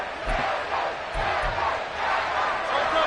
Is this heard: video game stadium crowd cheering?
yes